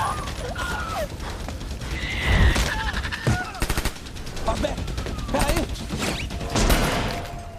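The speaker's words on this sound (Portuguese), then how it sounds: "ele simplesmente escorrega, cai por medo ali, né, de alguns infectados e dá um tiro na própria cabeça" Bursts of gunfire from a zombie film scene crack repeatedly over a busy, noisy background with scattered shouts and clattering, loud and close.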